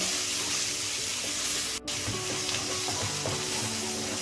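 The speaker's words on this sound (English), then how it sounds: "Keep mixing it and fry them on high flame." Coriander-mint stem paste and spices fry on high flame for lamb chops, a dense, continuous close sizzle with soft stirring scrapes and one brief dropout midway, no speech.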